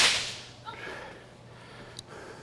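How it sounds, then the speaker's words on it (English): A single sharp whip crack rings out during protection dog training with a young dog on a bite sleeve, standing alone in a quiet outdoor setting after a brief noisy onset. "Hey, Anna, throw me on my whip"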